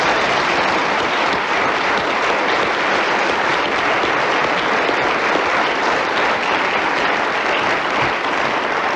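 Sustained applause from a large studio audience at a radio panel show, dense and steady clapping that fills the whole stretch without pause.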